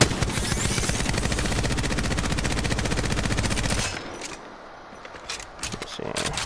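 Devotion light machine gun from Apex Legends fires a long, rapid, evenly spaced burst of loud shots for about four seconds, then stops, leaving quieter game sounds and a few faint clicks.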